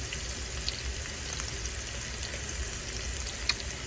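Garlic and butter paste sizzles steadily in a pan, a continuous crackling fry with scattered small pops, close and even throughout with no talking.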